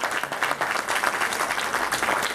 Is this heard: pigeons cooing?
no